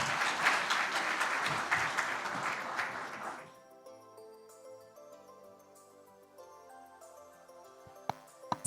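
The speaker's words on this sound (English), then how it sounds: "A stronger round of applause, please." Applause from a convention audience fills the first three seconds as a dense, moderately loud clatter of clapping, then drops away abruptly into a quieter lingering tone with a few faint knocks.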